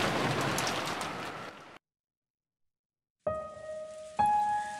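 Rain falls steadily as a sound effect in the visual novel Umineko, a dense hiss that cuts to silence midway before tonal music-like notes return.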